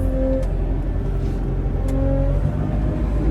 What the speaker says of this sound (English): I'm just putting the telehandler back where it goes